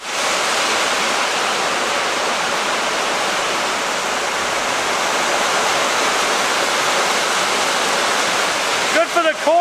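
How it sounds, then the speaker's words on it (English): Heavy rain pours in a loud, constant roar close to the microphone, and a brief voice is heard at the very end. "Looks like we got some rain coming."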